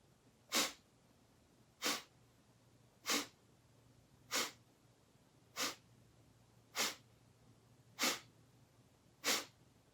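Eight sharp, forceful breath bursts from pranayama breathwork, each a short abdominal exhalation, spaced evenly about one and a quarter seconds apart, close and clear over a quiet room with no talking.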